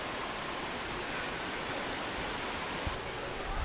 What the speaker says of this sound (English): We've got a nice little indoor stream running through there. You can hear the water coming through there.